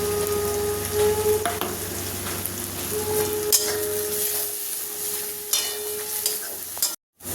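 Spice paste with chilli, turmeric and salt cooking in a pan with a splash of water for katla fish head curry, a continuous bubbling sizzle and stirring scrapes, close by, ending in a brief gap of silence.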